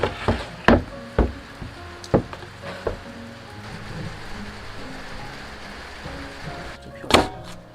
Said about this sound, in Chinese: 今天赶上这个瓢泼大雨，真的是太及时了